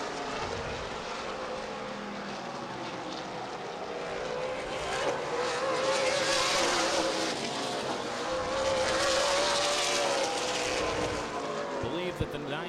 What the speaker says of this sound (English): Justin Schroeder working around the slow vehicle of Sam Coulter once again.